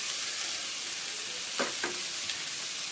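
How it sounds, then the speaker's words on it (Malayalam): Grated beetroot for a Kerala-style thoran sizzles softly in a pan, with a couple of short scraping stirs from a spoon breaking through the steady frying hiss. "ഇനി ഇതിലോട്ട് ആ ബീട്രൂട്ട് ഇട്ട് മിക്സ് ചെയ്യാം."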